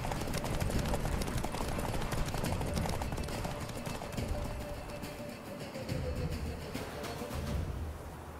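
Rapid hoofbeats of horses galloping into a forest, a steady drumming rhythm close by with rustling movement throughout.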